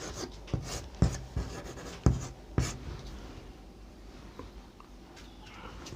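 Writing on a board during a Class 10 maths lesson, a few sharp tapping strokes early on followed by quieter scratching, close and otherwise without talk.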